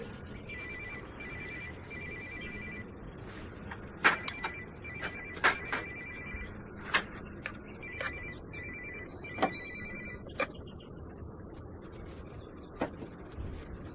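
Telephone ringing indoors in a 2015 film scene, a repeating electronic ringtone with steady tonal bursts, moderately loud, along with a few sharp ticking clicks and no talk.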